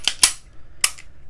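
A SIG Sauer P938 pistol's slide is racked, making two sharp metallic clacks close together, then another pair of clicks a moment later, sounding loud and close with no talking.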